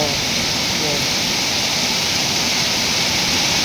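Heavy rain pouring in a steady, dense roar, loud and unbroken throughout.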